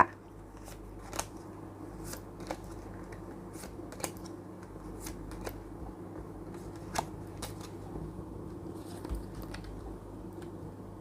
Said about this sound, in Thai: อาจารย์ขอเลือกไพ่10ใบค่ะ